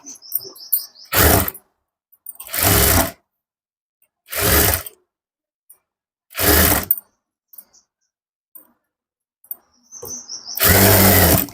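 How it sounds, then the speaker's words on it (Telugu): An electric sewing machine stitches a blouse lining in five short bursts of fast, buzzing needle runs separated by silent pauses, with faint bird chirps in the background and no talk. "ఇప్పుడు టోటల్ మనం ఇలా కుట్టేసుకోవాలి లైనింగ్ని"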